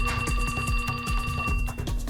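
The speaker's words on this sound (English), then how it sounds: "But the attack came to a sudden halt as a ringtone startled him out of his fury." A cell phone ringtone in the video game 428: Shibuya Scramble rings out as a steady repeating tone with rhythmic pulses over a low musical backing, continuing through the whole stretch with no talk.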